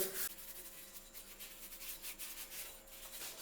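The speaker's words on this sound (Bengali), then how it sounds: "আমি পাঁচ মিনিট ধরে সব কলগুলোকে ভালো করে ঘষে নিয়েছি" Bathroom taps stained with iron being scrubbed by hand with a brush or scouring pad, a steady close rasping rub that repeats in quick strokes throughout, with no talking.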